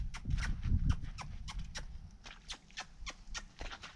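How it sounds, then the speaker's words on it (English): Hooves of a nervous wild horse being haltered clip-clop in a quick, even rhythm of sharp, fairly quiet strikes over a low rumble, with no voices. "He still is kind of a wild horse."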